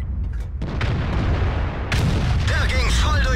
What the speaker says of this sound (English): I'm just firing normal shells, not ABCR or something.